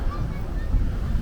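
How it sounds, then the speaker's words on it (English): Wind buffets the microphone with a low, steady rumble and rushing noise at a campground, continuous throughout the short stretch. "it's getting a little windy"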